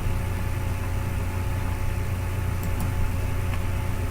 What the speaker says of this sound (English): the computers have got pretty hot, so we're picking up the fan with the microphone